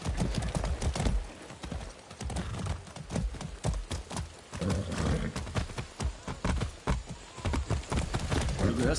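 Steady hoof clip-clops of a horse in the video game Far Cry 6, loud and close, with a busy rhythmic beat running throughout, a few faint voice fragments mixed in.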